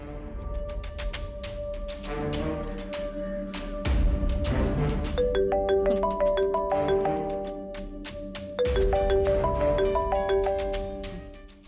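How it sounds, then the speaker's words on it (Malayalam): A mobile phone rings with a bright, repeating electronic melody of tones, sounding steadily for several seconds over a low background bed. "ദേ നിന്റെ ഫോൺ അടിക്കുന്നു"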